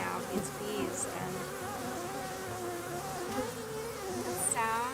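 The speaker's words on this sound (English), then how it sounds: "I'm totally in awe right now of these bees" Honeybees buzz continuously in flight, a dense droning hum with individual bees passing close by now and then.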